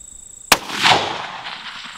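A single sharp, loud rifle shot from a Ruger American rifle cracks out after a brief quiet moment, followed by a rolling echo that fades slowly across the range.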